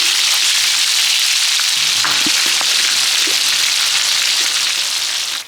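Fish fries in hot oil with a loud, constant sizzle and scattered crackles and pops, steady throughout before tapering slightly at the end.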